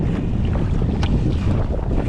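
A sea kayak paddles into strong wind and waves, with loud, constant wind buffeting the microphone over a dense rush of water and no voices.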